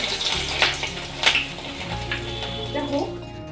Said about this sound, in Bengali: মাছের ডিমের বড়া না খুব ফাটে, ফটফট ফটফট করে